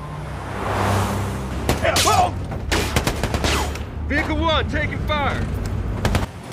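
Gunfire in a film battle scene from American Sniper, with bursts of shots and vehicle noise during a chase, mixed with shouting voices and music.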